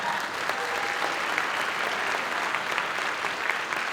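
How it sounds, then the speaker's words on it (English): A high school concert audience claps for the freshmen, a broad, even patter of many hands sustained for several seconds at moderate level, with a few sharper claps standing out near the front. "Guys, clap it up."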